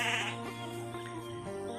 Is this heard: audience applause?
no